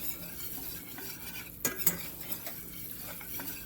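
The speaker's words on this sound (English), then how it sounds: "Just a little bit of stirring." Cornmeal gravy is stirred in a pan on the stove, a soft, faint scrape of a utensil circling the pan over a low sizzle, with a few brief sharper clinks near the middle.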